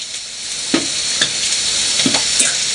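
Potatoes frying in a home kitchen pan late at night: a steady close sizzle with a few stirring scrapes and clinks at irregular intervals, no voices.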